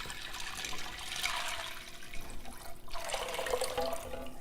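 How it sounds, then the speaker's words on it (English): Water is poured into a pot of red beans with a little oil and salt, a splashing gush that runs for a few seconds, pauses briefly, then resumes at close range, with no talking. "Pour the water"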